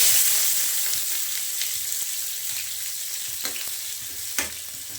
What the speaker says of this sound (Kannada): ಚೆನ್ನಾಗಿ ಫ್ರೈ ಆಗಬೇಕಿದು ಈರುಳ್ಳಿ ಟೊಮೊಟೊ